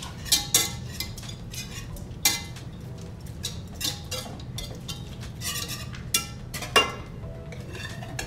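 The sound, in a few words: mixing cheese, garlic and Italian seasoning in a bowl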